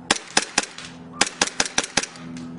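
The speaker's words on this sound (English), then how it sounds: "I'll just kind of fire off a couple rounds so you can see how it works" A KSC G26 Glock airsoft pistol fires about ten sharp, snappy shots in two quick bursts, each crack close and loud with a brief slide clack, separated by a short pause.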